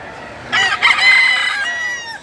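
A rooster crows loudly and close by at a chicken auction market in Lipa, a single strained cock-a-doodle-doo with a clipped start and a drawn-out, fading tail.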